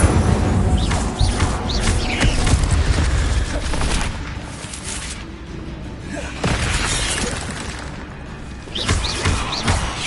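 Fire spell Incendio cast in a Hogwarts video game, loud dense crackling and shattering bursts with heavy thuds and booms, continuous chaotic combat effects that surge and fade over several seconds.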